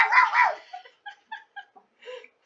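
A person imitates a dog, giving a string of short, yappy barks and yips after some loud vocalizing, close to the microphone and alone.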